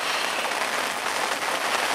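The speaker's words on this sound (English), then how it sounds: "I'm not sure how long we've actually got this rain in for" Rain falls steadily during a winter fishing session, a close, constant hiss of drops pattering on surfaces with no voices.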